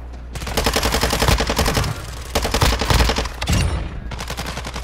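Dense automatic gunfire fills a shooter video game firefight, loud continuous bursts with brief gaps, rattling close with no voices over it.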